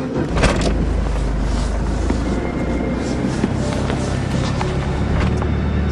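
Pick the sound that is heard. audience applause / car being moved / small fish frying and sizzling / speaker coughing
car being moved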